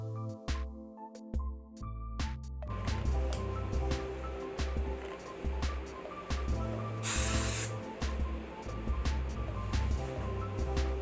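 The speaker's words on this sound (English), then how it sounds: "I'm gonna go in again with this Aussie hairspray and just give myself a nice douse all around my hair" Aussie hairspray sprayed in long bursts all around styled hair, a close steady aerosol hiss repeating several times after a brief quiet start.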